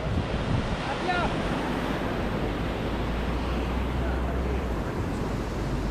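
Big ocean waves surge and wash steadily along a shore with gusting wind buffeting the microphone, a continuous roar with a low rumble throughout.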